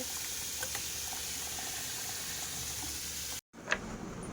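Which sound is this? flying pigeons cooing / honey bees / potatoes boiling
potatoes boiling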